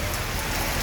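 Heavy rain pours steadily around a bus at a ticket office in Palembang, a dense continuous hiss of drops on surfaces with no break across the short stretch.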